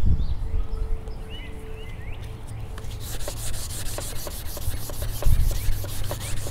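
80-grit sandpaper rubs across a cracked fiberglass car dashboard under repair. A quiet scratchy hiss becomes a run of quick, even back-and-forth strokes up close.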